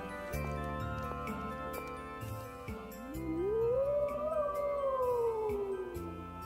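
A long rising and falling animal howl sounds in the town of Lewin in Tales of Symphonia: Dawn of the New World, over a sustained game music backdrop.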